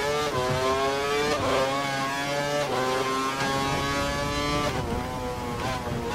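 An F1 race car engine in the video game F1 2012 screams through repeated upshifts, its pitch climbing and dropping in a sawtooth pattern, loud and close throughout, with no talk.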